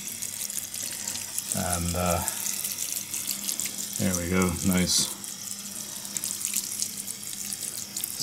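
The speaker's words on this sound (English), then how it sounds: "So a nice soaking, maybe one more go here." Water splashes steadily from a can or hose onto potted cacti and succulents, including a Parodia magnifica, in a close, continuous gush with a few bursts, while a person speaks briefly over it.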